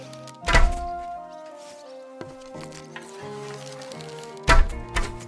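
Two sharp thunks of arrows striking an archery target in Kingdom Come Deliverance 2, spaced about four seconds apart, with a sustained melodic music bed running underneath.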